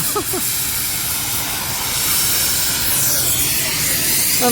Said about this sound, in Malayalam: ഹീറ്റ് ചെയ്ത് കല്ലിനെ ഫ്ലെയിം ചെയ്യുക